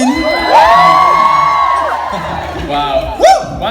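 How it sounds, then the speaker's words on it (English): A large crowd of fans at a meet-and-greet event screams and cheers loudly and continuously, high-pitched shrieks and whoops swelling together with a voice cutting through near the end. "the screaming was so loud that you couldn't hear anything else but a pitched noise"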